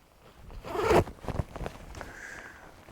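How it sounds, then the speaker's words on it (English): Zipper being drawn closed on the laminated inside pocket of a Rab Kangri GTX jacket, a close, rasping pull lasting about a second followed by small fabric rustles and clicks. "Zip that up."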